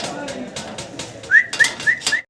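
Satin pigeons, including a foam-coloured satin, give four rising whistled coos close by, following a stretch of softer rustling and wingbeats.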